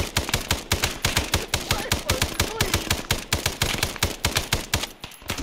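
Rapid automatic gunfire in Arma 3, a loud, close, steady stream of evenly spaced shots running almost without a break, ending abruptly near the close.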